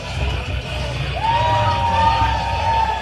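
A wrestling crowd cheers and shouts steadily at an indoor event, a loud sustained roar with a rising whistle or yell cutting through partway.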